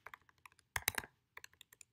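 Fingers tap on a computer keyboard close by, with quick bursts of light, clicky keystrokes separated by short pauses and one denser flurry in the middle, with no voices.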